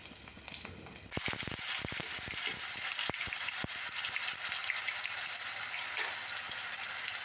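Steady crackling sizzle of carom seeds and dried red chillies hitting hot oil, starting abruptly after a second with a few sharp pops, then holding as a continuous close hiss.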